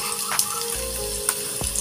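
Potatoes fry in oil in a pan on a home stove, giving a steady close sizzle broken by a few soft clinks and stirring noises.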